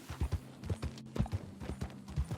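Horse hooves clip-clopping in the Western roleplay game RedM, a steady rhythmic run of close, distinct hoof strikes on hard ground with no talk over them.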